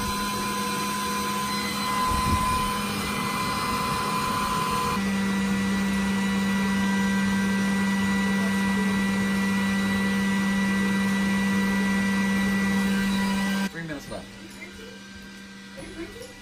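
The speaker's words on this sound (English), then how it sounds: "Our Glowforge." A Glowforge laser cutter runs indoors with a steady mechanical hum and whirring fan tones, shifting pitch partway through, then cutting off, with people talking quietly over it.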